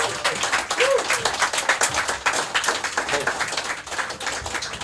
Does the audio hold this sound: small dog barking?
no